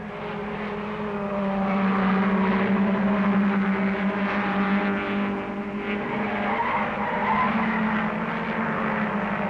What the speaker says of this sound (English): There follows a 3-lap duel between the Sunbeam and the Volvo.